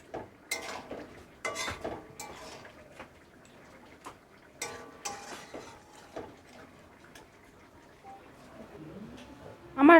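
A spoon clinks and scrapes irregularly against a pan as ghee is stirred into a cauliflower and potato curry, with light taps scattered throughout and a sharper clatter at the end.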